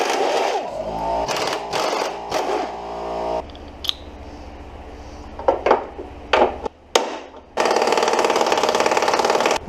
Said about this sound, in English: Finally got all the bolts ground out.